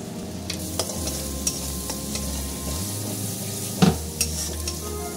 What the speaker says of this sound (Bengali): পেঁয়াজটা যেহেতু ভেজে নিয়েছি, কালারটা কত সুন্দর এসছে একবার। এবার এর মধ্যে আমি গরম মশলা দিয়ে দিচ্ছি।